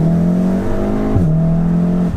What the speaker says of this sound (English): You can hear the turbo sort of.